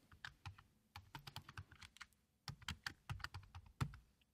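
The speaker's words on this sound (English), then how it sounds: "Let's type the name of our website here, Shirts for Mike." Rapid keystrokes on a computer keyboard come in quick bursts with brief pauses, fairly close and alone with no talking.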